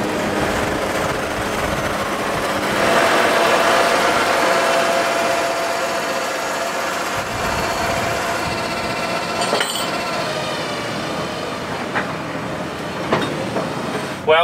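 A John Deere 830 tractor pulling a speed disc across a test field gives a loud, steady engine drone with mechanical rattling and clatter, continuous throughout with no voices.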